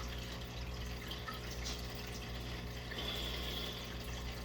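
Aquarium water being drawn off into a container: a steady, close trickling and filling sound runs the whole time, with small splashes and gurgles and no voices.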